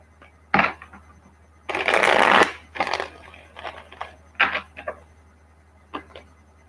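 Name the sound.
shuffling tarot cards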